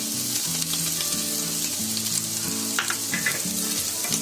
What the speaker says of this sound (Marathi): आता बघा बटाटे चांगली फ्राय केली आहे